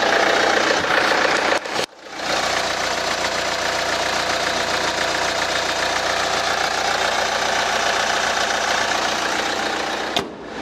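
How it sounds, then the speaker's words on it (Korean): Diesel engine of a Hyundai Santa Fe DM idling steadily, a loud continuous clattering rumble heard close up, with a brief cut near the start and again near the end. "아주 우렁찬 디젤 소리 엔진 들었고요"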